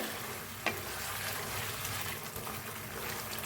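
Steady sizzling of chicken frying in a pan, with a brief clink of a spoon stirring; continuous and close, no voices.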